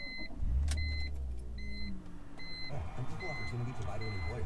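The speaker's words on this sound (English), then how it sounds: "Okay, first let's start the car." A BMW E46 car starting up: a low engine crank and rumble rises early, then repeated electronic chimes beep at intervals while the engine idles, with someone talking over it.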